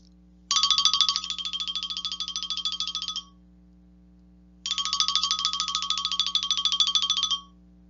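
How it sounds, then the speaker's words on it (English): An office telephone ringing in two long electronic trilling bursts separated by a pause, clear and close over a faint low hum. "when the phone rang"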